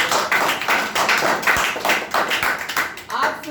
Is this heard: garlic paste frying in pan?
no